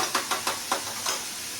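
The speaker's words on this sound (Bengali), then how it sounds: "তাহলে আমি ডিমটাকে একটু ছেঁকে নিচ্ছি।" An egg frying in a pan with banana stem, giving a steady sizzle broken by several soft stirring scrapes at an uneven rhythm, close and moderately quiet, with no talking.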